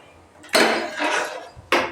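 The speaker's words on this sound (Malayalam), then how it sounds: "നമുക്കിത് അടപ്പേ വെച്ച് തിളപ്പിക്കാം" A lid set onto a cooking pot of fish curry about to be boiled gives a few close, sharp metallic knocks and clatters, with a brief rattling scrape between them and a final clink.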